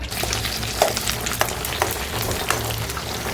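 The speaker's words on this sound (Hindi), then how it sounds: "फ्रोज़न आइटम फ्राई कर रही हूँ।" Frozen items, including mince samosas, frying in hot oil at home, a loud continuous bubbling sizzle with frequent crackles and spits, heard close up.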